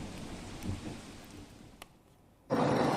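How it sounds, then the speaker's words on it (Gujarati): Heavy monsoon rain hisses steadily outdoors in Padra near Vadodara, with a soft low rumble like thunder, then the downpour swells abruptly louder and fuller near the end. "શહેર અને જિલ્લામાં પણ ધોધમાર વરસાદ સર્જાયો છે"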